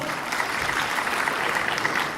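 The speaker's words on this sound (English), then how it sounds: "Give it a big round of applause" An audience at a motivational talk event bursts into steady, dense applause that holds at an even level throughout, with no voices breaking through.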